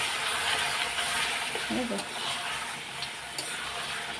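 Pieces of mutton sauté with salt, turmeric and spices in a pan, giving a steady, close frying sizzle with some stirring, while a voice talks over it.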